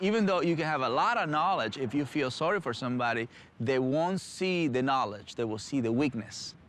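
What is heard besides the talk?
None of the usual background noises is heard.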